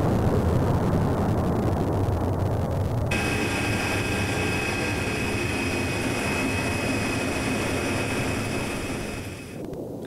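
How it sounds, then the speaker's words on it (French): McDonnell Douglas C-17 Globemaster III jet transport aircraft, a loud, steady jet engine roar with a high turbine whine that holds throughout and eases slightly near the end, with no talking. "le C-17 embarque à peu près la même charge, mais n'utilise qu'une petite portion de la piste"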